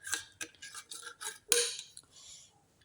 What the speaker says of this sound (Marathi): दुधामध्ये टाकून मिक्स करून घेतला आहे.